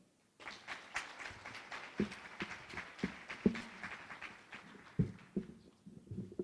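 An audience at a journalism talk gives a round of applause for a city councillor: scattered, fairly faint hand claps from a modest crowd, with a few sharper individual claps standing out, alone without talk.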